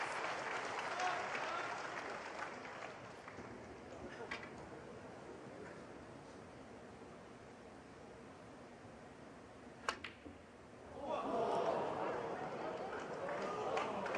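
Snooker crowd at the Shanghai Masters 2024 final between Judd Trump and Shaun Murphy: a hushed arena, a sharp ball click, then warm applause swelling loudly and carrying on to the end.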